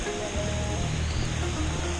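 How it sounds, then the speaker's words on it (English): Roaring waterfall swollen by a flash flood at Pewits Nest, a dense, steady broadband rush of heavy water that runs loud and unbroken the whole time, with no voices over it. "Yo, that waterfall sounds insane."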